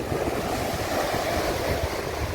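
Steady broadband roar of sea surf washing onto the beach at Mandvi, Gujarat, continuous and fairly loud, with a low rumbling undertone and some wind noise.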